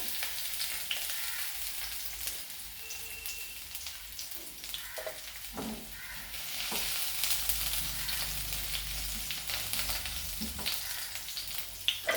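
Chopped garlic fries in hot ghee for egg rice, a steady close crackling sizzle with occasional stirring scrapes, no talking.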